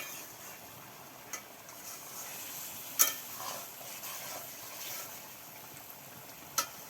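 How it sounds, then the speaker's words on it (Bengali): Chicken and vegetables fry in a pan as they are stirred, a quiet continuous sizzle broken by a few sharp utensil clinks against the pan, with no talk. "সবজিগুলো একটু নেড়ে ফেলে দিচ্ছি"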